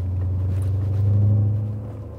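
A BMW 7 Series with a new exhaust idling, giving a steady, deep low rumble that holds even and close for a couple of seconds before easing slightly at the end.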